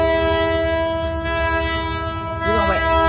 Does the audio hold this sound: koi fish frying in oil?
no